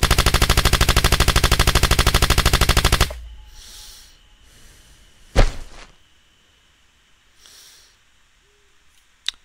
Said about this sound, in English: You were shot and killed while trespassing private property.